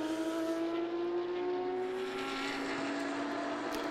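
Racing cars from Belgium Racing and a yellow-and-blue MM Racing Porsche battle on a Belcar Series circuit, engines droning loudly with rising and falling pitch as they run close together, no voices over the sustained roar.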